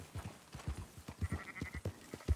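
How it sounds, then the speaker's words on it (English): Sheep in the video game Red Dead Redemption 2 bleat repeatedly, with short overlapping calls coming in quick succession at a moderate distance. "Marston, why don't you leave the sheep to me?"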